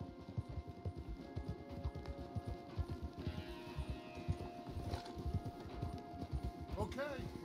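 Horses walk along a wooded path in the video game Red Dead Redemption 2 on Xbox One. Their hooves clip-clop in a steady, close rhythm, with voices and faint birdsong around them.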